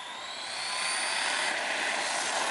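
A Team Associated MT8 RC monster truck accelerates with a steady, loud high-pitched motor whine that rises and holds near the listener, with no voices.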